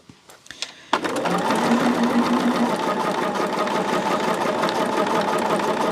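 After a few handling clicks and taps, a sewing machine starts up and runs steadily, stitching quilt squares together with a close, continuous rapid whirring hum.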